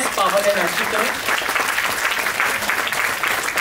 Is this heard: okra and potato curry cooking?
no